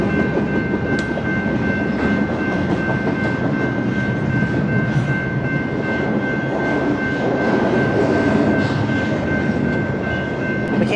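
A long freight train rolls past near Williams in the Kaibab National Forest area, a continuous loud rumble with clattering wheels and a sustained whistle-like tone, steady for the whole span with no voices.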